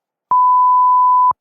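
A single steady censor beep, loud and clean, held for about one second to mask a name in a podcast conversation, standing alone with no talk under it.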